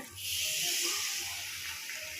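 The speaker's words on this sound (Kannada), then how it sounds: "ಇದು ನೀರು ಹಾಕ್ತಾ ಇದ್ದೀನಿ ನೋಡಿ" Water pours steadily into a cooking pan holding leftover masala from North Karnataka-style oil-fried brinjal curry, a continuous close splashing hiss with no talking.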